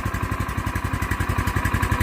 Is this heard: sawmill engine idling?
yes